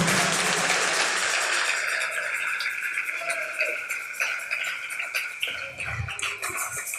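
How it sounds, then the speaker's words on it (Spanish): A church congregation claps together in a broad, steady wash of applause that slowly thins over several seconds, with a faint background tone running beneath it. "Dele un aplauso al Rey en esta hermosa tarde"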